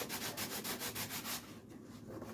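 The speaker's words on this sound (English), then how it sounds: "I'll make sure that I sand it down completely" Hand sanding strips the top coat of paint, steady back-and-forth rubbing strokes in a quick rhythm for over a second, then quieter scraping; close and fairly soft, with no talk.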